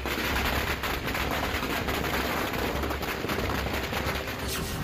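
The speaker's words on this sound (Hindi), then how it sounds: "आतिशबाजी, फायरिंग का अद्भुत नजारा।" Gunfire and fireworks at a village Holi festival battle reenactment with guns and cannons, a dense, continuous roar of shots and crackling bursts blending into a loud, unbroken wash.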